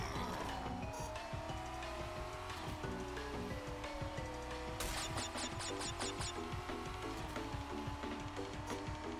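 Kart engines droning in Crash Team Racing Nitro-Fueled as a drift brings tire squeals, layered over busy in-game music with a string of sharp pickup chimes midway.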